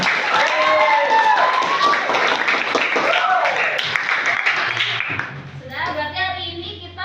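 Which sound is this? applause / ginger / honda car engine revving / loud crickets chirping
applause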